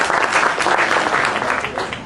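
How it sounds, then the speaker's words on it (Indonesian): An audience at a Kenduri Cinta gathering in June 2012 claps together in a dense, loud, continuous round of applause. "Monggo Mas Toto, tepuk tangan bareng-bareng"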